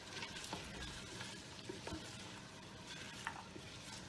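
Green chilies, garlic and ginger are stirred in hot mustard oil for Bangladeshi nihari, giving a steady, fairly faint sizzle with a few soft scrapes and taps from the spoon.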